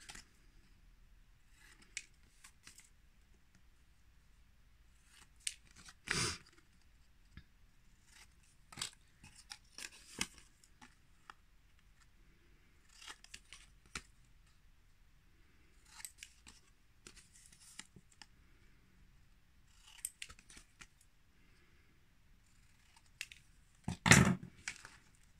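Scissors snip paper tabs to bevel their sides, giving quiet, sparse clusters of close crisp cuts separated by near silence, with one louder snip near the end.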